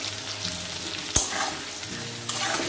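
Small pumpkin pieces with tomato fry in a pan with a steady close sizzle. A sharp clack of a utensil and a later stirring scrape break through.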